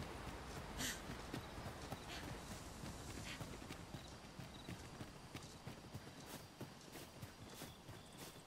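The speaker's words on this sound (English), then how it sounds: "There's a horse." Horse hooves clip-clop steadily in the Dragon's Dogma 2 game, a continuous rhythmic patter of hoofbeats at moderate loudness with a brief louder burst near the start.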